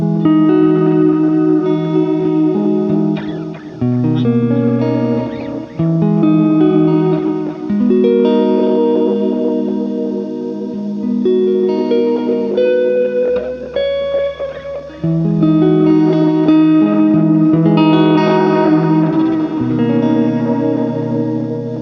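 Guitar played through a janky tape echo unit on a slow setting, chords and single notes trailing into long repeating delays that smear together, loud and close with no talking.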